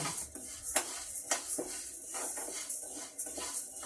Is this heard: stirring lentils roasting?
yes